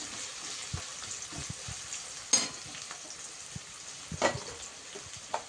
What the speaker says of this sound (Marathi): त्याच्यामध्ये आपण आता कांदा टाकून घेतोय। कांद्याला थोडासा ब्राऊन रंग येऊन द्यायचा।